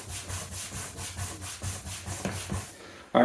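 A forearm rubs briskly back and forth along a leather strop used for a straight razor, giving about a dozen rhythmic swishing strokes, close and moderately loud, ending with a sharp knock.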